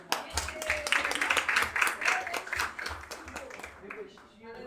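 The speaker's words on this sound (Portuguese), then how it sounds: "Vamos aplaudir o Senhor para Deus." A church congregation claps for the Lord during a Portuguese-language sermon, a dense burst of hand claps lasting several seconds under the pastor's voice, fading near the end.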